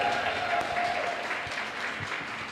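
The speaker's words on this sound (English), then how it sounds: "Can we have one more round of applause for Shelly Thomas," An audience applauds a performer named Shelly Thomas at a CreativeMornings New York event, a steady wash of clapping filling the whole moment at moderate loudness.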